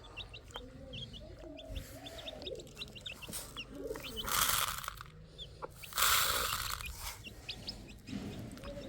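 Pigeons coo and chirp around paddy feed with chickens nearby, a busy mix of soft cooing and high chirps, with bursts of fluttering wings and scuffling in between.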